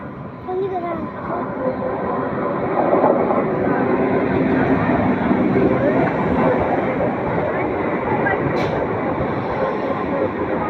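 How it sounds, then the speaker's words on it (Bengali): Train arriving at a station platform at Barrackpore: a loud, continuous low rumble and rolling clatter that swells as it draws near, with people talking over it. "এই ট্রেন আসছে, এদিকে সাইডে।"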